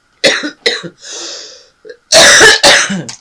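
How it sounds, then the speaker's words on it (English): Several harsh coughs from a single person, close and loud, in two clusters: a few short hacks, a pause with a low murmur, then two longer, heavy coughing bursts near the end. "I have an awful cough, and it's going to come up"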